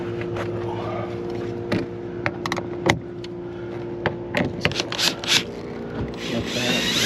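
A WRD Orange Bat tool is dragged along the back glass track of a 2020 Ram 1500 with a power slider window, giving scattered scraping rubs and sharp clicks over a steady low engine hum.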